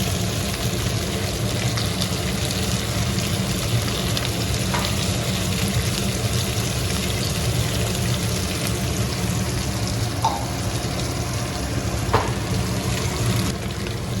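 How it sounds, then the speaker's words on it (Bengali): Potatoes frying with poppy seed paste for aloo posto make a loud, dense, continuous sizzle, with faint scraping strokes and soft clicks under the hiss throughout. No one talks. "পোস্তটা দিয়ে ভালো করে"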